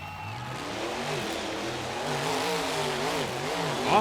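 Two monster trucks, Brutus and Donkey Kong, launch off the start line in a 2010 Philadelphia race, their engines roaring and revving in a steady, loud drone that rises and falls through gear changes without any talk.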